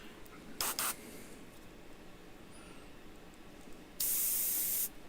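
Airbrush blasting short bursts of air and paint to clear dried paint from its tip, a brief hiss near 0.6 seconds and a longer, loud spray from about 4 to 5 seconds, with quiet room noise between.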